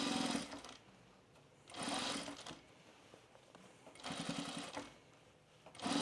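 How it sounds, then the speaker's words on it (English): A sewing machine stitches fabric binding down in short bursts: three runs of rapid, close mechanical chatter separated by quiet pauses. "now let's sew this binding down"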